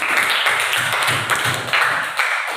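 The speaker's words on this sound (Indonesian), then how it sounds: "Ya, kasih tepuk tangan telinga." A classroom of students gives a short round of applause, dense scattered clapping held steady for a couple of seconds at moderate loudness, close by with no talk over it.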